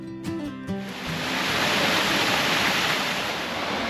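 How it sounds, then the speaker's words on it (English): A small waterfall at Juniper Springs, Florida, rushes in a loud, continuous roar of falling water that swells in after a second of tonal music and then holds steady. "Here's a beautiful small waterfall just to the right of the wheel."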